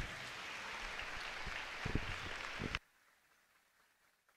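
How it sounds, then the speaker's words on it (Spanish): Audience applause at a school graduation ceremony welcoming a student speaker, a dense steady wash of clapping that carries on for nearly three seconds, then cuts off abruptly into near silence. "Fuerte el aplauso de bienvenida para ella."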